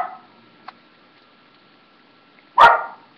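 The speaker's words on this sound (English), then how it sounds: "dogs barking is out of control." A dog gives one loud, close bark near the end of a mostly quiet stretch, with a faint click sounding earlier.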